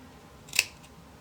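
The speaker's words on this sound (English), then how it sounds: "And I'm just trimming some of the excess so that it looks nice and clean." A single short snip as scissors trim excess fabric from a quilt-as-you-go table runner, crisp and close against a quiet room.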